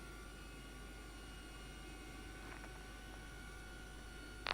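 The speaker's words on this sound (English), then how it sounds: "so APU power on" Steady, faint hum of an MD-11's auxiliary power unit running in X-Plane 12, an even drone with a few faint clicks and no speech.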